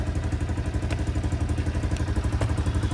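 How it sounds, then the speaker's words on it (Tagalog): Honda CB110 motorcycle on its stock exhaust pipe with a slight leak at the pipe connection, idling close by in a steady low pulsing thrum. "So may ingay pa rin na konti, no? Kahit naka-stock pipe kasi sa connection niya may konting leak."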